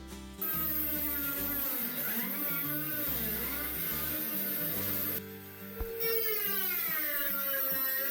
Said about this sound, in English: use the Dremel to make the world's horriblest noise for 10 or 15 minutes